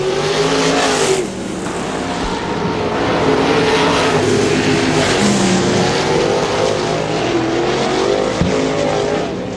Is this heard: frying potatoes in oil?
no